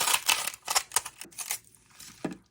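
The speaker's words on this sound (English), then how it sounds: "Now I'm going to take my scissors and just cut a little piece of styrofoam." Scissors snipping through a small piece of styrofoam for a dollar store Christmas ornament craft, a run of crisp, close, rapid cuts and squeaks with brief pauses, ending in a single lower thump.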